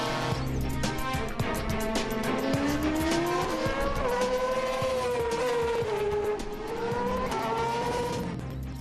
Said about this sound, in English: This is Wayne Rainey's favorite racetrack, the Laguna Seca Motor Speedway in Monterey, California